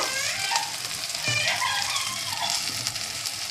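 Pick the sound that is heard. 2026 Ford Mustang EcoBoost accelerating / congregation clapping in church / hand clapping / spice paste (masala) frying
spice paste (masala) frying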